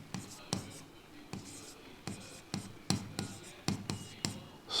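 Chalk or marker writing on a board during a science lesson, a run of sharp irregular taps and short scratchy strokes, close and fairly quiet, with soft speech in between.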